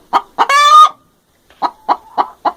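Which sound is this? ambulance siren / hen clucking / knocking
hen clucking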